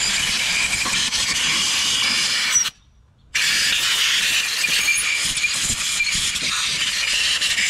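Compressed air hisses steadily out of the valve ports of a CTIS central tire inflation system on an M1161 vehicle, a loud continuous blast that stops briefly midway and then resumes, with no talking.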